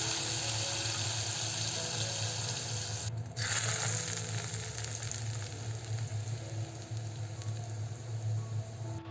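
About 120 grams of hot peanut oil poured over ginger-scallion paste gives a steady, close sizzle and crackle that lasts throughout, with a brief stronger hiss near the middle.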